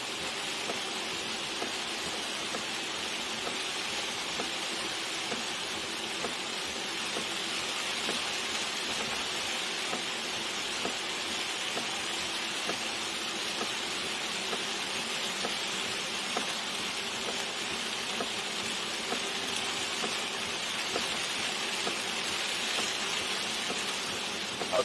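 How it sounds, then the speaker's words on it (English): Heavy rain pounds steadily on a car driving down the highway, a dense, even hiss of drops on the roof and glass that holds constant for the whole stretch, with no talk over it. "The slower I go, the harder it rains."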